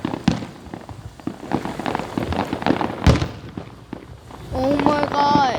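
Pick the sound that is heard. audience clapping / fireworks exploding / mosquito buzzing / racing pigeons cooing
fireworks exploding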